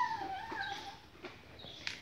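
A dog whimpers softly with high, wavering whines and a few small yips, close by, over light background noise.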